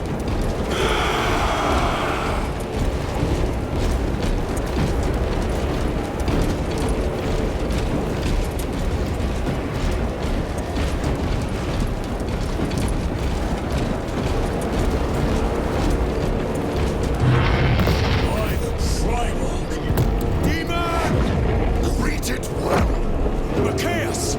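Continuous rumbling battle din of artillery fire and explosions in Warhammer 40k Space Marine 2, a dense, loud wall of booms and blasts with louder bursts near the start and again around the later stretch, with game voices mixed in.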